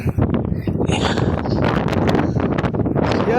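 Strong wind gusts buffet the microphone high on a cliff above the sea, a continuous loud roaring rush with rustling leaves nearby.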